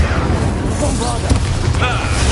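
Bombarda explosion spell in Hogwarts Legacy, a loud deep boom with rumbling low end mixed with dense game effects and overlapping voices throughout.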